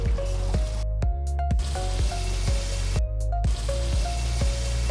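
Green chillies sizzle and crackle steadily in a pan over a low flame, a continuous close frying hiss with a rhythmic backing of music running through it.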